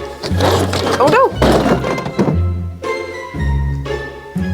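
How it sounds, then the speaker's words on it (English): A packed suitcase being brought down for travel lands with several heavy thunks and thuds, spaced a second or so apart, loud and close, with people's voices and some rustling around the impacts. "The sound of bringing down your suitcase when you're getting ready to travel again."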